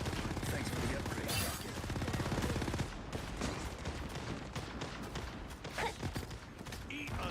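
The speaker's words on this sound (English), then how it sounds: "These guys are about to shoot at us." Enemies fire guns in a video game, a quiet, busy stretch of repeated shots and mechanical clatter running throughout, with a voice talking faintly underneath.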